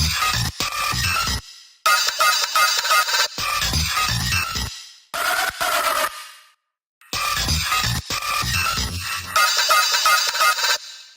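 Heavily resampled glitch sounds in an electronic music track, loud and dense, arriving in choppy bursts separated by abrupt silent gaps, with honking, squawking tones.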